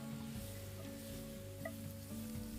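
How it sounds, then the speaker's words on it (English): Rump steak fries in a cast-iron pan over a braai, giving a steady hiss of sizzling with faint pops throughout. "continue frying because it's cast iron, so it will continue frying"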